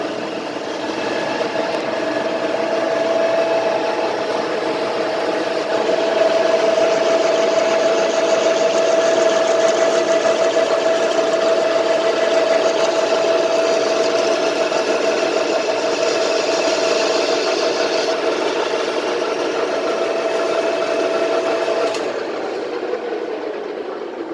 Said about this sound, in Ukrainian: Так, вмикаємо верстат.